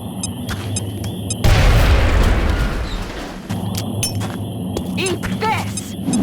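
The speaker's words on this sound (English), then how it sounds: "Throwing grenade!" A grenade blows up in the XCOM video game with a sudden heavy boom and a rumbling tail of debris, set in a game soundscape of chimes, electronic tones and soldier voices.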